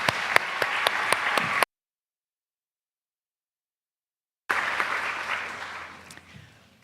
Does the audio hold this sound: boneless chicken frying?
no